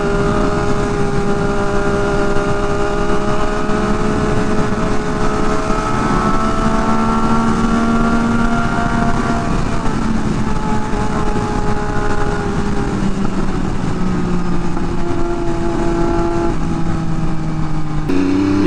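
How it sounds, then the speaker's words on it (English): A 2023 BMW S1000RR M Package motorcycle engine runs loud and steady as the rider pulls away in first gear, its rising whine climbing in pitch through the run with strong wind rush. "I'm going into first gear in this bike"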